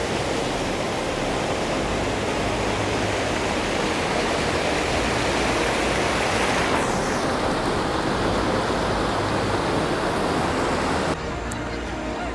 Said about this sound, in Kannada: ಅಲ್ಲಿ ಬಂಡ್ ಕಟ್ಟಿದ್ದಾರೆ, ನೀರು ನಿಂತು ಮುಂದೆ ಹೋಗ್ತಾ ಇದೆ